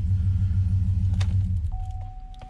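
A Chevy 2500HD truck engine idles steadily with a heavy low rumble, then eases slightly as a faint steady whine rises near the end, with a few small clicks mixed in.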